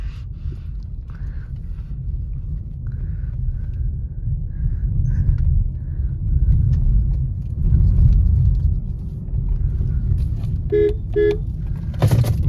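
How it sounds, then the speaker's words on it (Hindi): A petrol Suzuki Grand Vitara drives along a road, its engine and tyre noise forming a steady low rumble throughout. The rumble swells slightly midway, and a few faint clicks and brief tonal beeps appear near the end. "मैं गाड़ी चला रहा हूँ बिल्कुल सेंटर पे"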